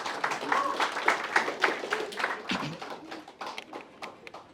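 Audience applause at a success party, a dense burst of many hands clapping close by that thins out and fades toward the end.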